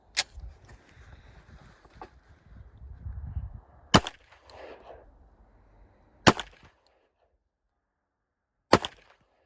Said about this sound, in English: Now I'm going to shoot the 75.